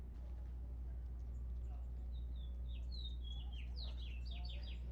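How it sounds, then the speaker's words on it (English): Outdoors in Flagstaff, small birds trill and chirp in quick, bright bursts over a steady low hum, growing busier toward the end. "Let's just listen to them birdies"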